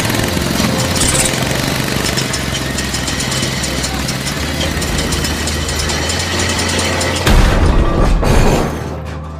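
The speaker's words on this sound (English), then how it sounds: "the engine roared to life" A homebuilt motorcycle engine converted from a bicycle runs loud and close with a steady, rattling drone, then swells into a brief louder burst near the end before easing off.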